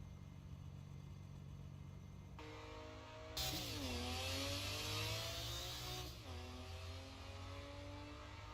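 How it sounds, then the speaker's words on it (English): A racing car engine in an Assetto Corsa EVO replay drones steadily, then surges into a loud, high-revving whine for a few seconds before settling back to a lower hum. "how the car sounds in replay camera."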